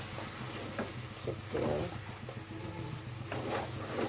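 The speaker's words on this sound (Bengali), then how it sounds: "কষে হচ্ছে এই চাউলটা কষানো হলে ঝরঝরে খিচুড়ি হয় সুন্দর হয়" Rice being stir-fried for khichuri in a pressure cooker, giving a steady sizzle with a few louder scraping stirs.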